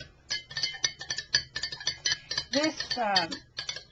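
A spoon stirring a sugar and mouthwash preservative solution for cut hydrangeas in a glass, giving rapid close clinks and scraping, with a brief voiced sound partway through.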